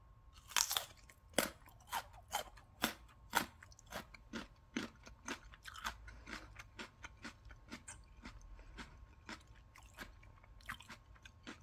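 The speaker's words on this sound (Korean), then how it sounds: "요 잘 익은 당근을 먹어보겠습니다" Crisp, repeated crunching bites of a raw carrot washed and cut into pieces, close and loud, settling into a steady rhythm of chewing with no talk.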